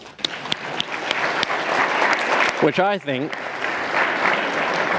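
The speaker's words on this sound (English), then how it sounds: "Let's give him a round of applause." Conference audience applause at a WordPress event, a steady wash of clapping with scattered sharp claps, briefly overlapped by a voice speaking in the middle before the clapping continues.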